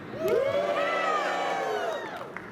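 Audience at a Coasterstock presentation at Kings Island amusement park cheering and whooping, a loud, close burst of shouts that holds for about two seconds and then fades slightly.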